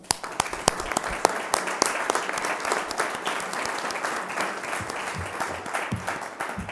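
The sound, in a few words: audience applause for the organizers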